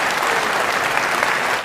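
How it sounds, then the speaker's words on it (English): A large audience applauds in a dense, continuous roar of clapping that holds steady and loud throughout the short stretch. "That's literally an audience of people applauding their own demise"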